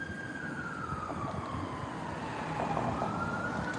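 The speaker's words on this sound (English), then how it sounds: "I don't know what's going on with so many sirens here tonight." Emergency vehicle sirens wail continuously outside at night, a steady rising and falling tone that slowly grows louder over a broad wash of distant traffic noise, with no talk.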